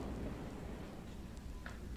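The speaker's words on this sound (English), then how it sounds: "There's a storm coming on." Thunder rumbles low and soft with a wash of rain, a quiet, distant storm effect in a full-cast 1964 radio recording of a Chekhov play.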